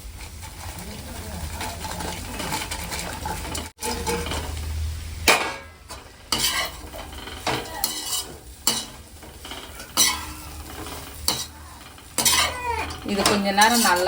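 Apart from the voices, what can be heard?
chicken pakoda stirred and sautéing in a pan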